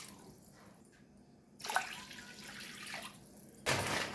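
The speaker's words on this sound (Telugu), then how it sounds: "ఇప్పుడు వాటర్ వేసుకోవాలి" Two glasses of water are poured into a pan for spicy Punjabi-style Maggi noodles, with a soft splashing rush that swells in two bursts over a quiet background.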